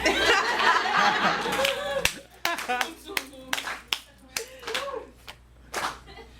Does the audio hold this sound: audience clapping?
yes